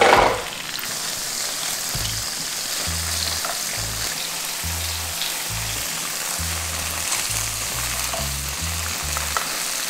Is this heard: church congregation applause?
no